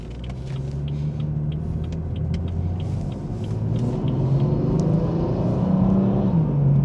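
A BMW 440i fitted with an MST intake accelerates in sport mode, heard from inside the cabin as a steady engine drone that climbs gradually in pitch and loudness over continuous road rumble, with no talking.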